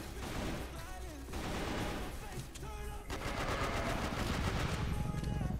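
Automatic gunfire in the shooter game CF West, likely an AK-47-K Golden Bull, rattling in dense continuous bursts with game music and effects underneath and scarcely a pause.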